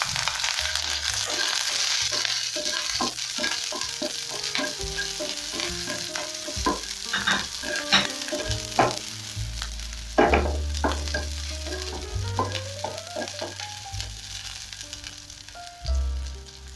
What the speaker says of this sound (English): I'm also going to add in about a tablespoon of cooking oil since my pan is already hot. Then, I'll go in with my onions.